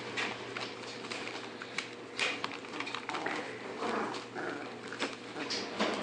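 Bully puppies scuffle and yap, with sharp little barks, growls and rapid scrabbling bursts in an irregular, energetic tangle.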